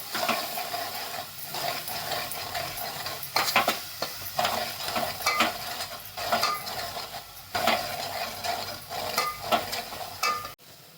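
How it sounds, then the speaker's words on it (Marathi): Spice masala of Kashmiri red chilli, homemade yellow masala and black masala stirred and sautéed in a pan for Maharashtrian katachi aamti, with steady sizzling and repeated scraping, clinking strokes of a spoon against metal, close and continuous, without talk. "आता हे चांगलं हलवून घ्यायचं परतून घ्यायचं चांगलं"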